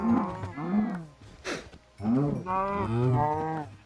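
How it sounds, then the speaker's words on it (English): Cows in the Minecraft video game moo in several drawn-out calls, loud and close, with brief gaps between them and no talk over them. "I do need the cows."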